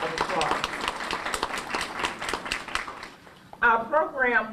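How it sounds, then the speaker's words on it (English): Conference audience clapping at an opening session on educational access, a lively crowd applause for about three seconds that fades, followed by a speaker's voice. "Please give her a round of applause."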